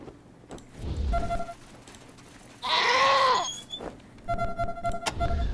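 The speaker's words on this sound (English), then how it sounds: "A goat." A single clear goat bleat rises and falls for about a second in the Wasteland 2 video game, set between quieter background game sounds and soft clicks.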